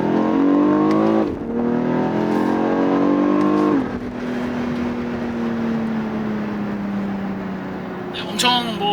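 BMW X4 M with a 510-horsepower engine pulling away from a standstill in M1 mode, a loud, thick exhaust note rising through a gear, dipping at a shift, then settling into a steady drone; a brief voice is heard near the end.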